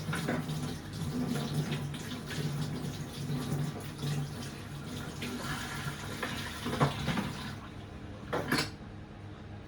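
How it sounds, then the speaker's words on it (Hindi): Kitchen tap water runs steadily while green chillies are washed by hand, a close continuous splashing hiss with occasional brief clatters and shifts in the flow. "तो हरी मिर्चों को धो लेते हैं अच्छे से।"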